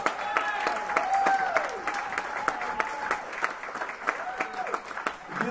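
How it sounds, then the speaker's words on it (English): Audience clapping at a live concert with a crowd, individual hand claps clearly audible, mixed with whoops and cheering voices rising and falling throughout. "Let's give St. Paul a big round of applause."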